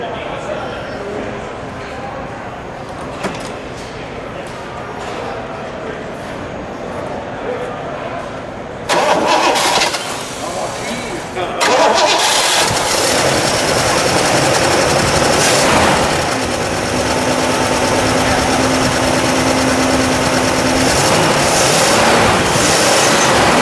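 A 1965 Pontiac GTO's 389 V8 engine cranks, catches and roars to life, then settles into a loud, steady, rumbling idle close by, after a quieter stretch with background noise.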